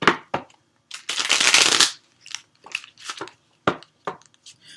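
A deck of tarot cards is shuffled by hand close up: a long riffling burst followed by several short crisp snaps and slides of cards, with no talk over it.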